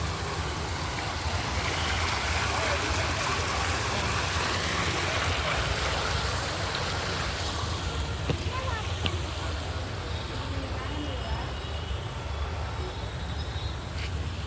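Water flows in a steady, loud, broadband rush that fills the whole stretch, close by, with a cool breeze setting outdoors and no clear breaks.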